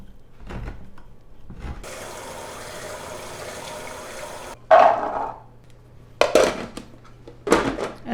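Canned chickpeas are drained and rinsed in a kitchen: a steady rush of running water for a few seconds, then close splashing, rattling and sloshing bursts as the can and colander are handled.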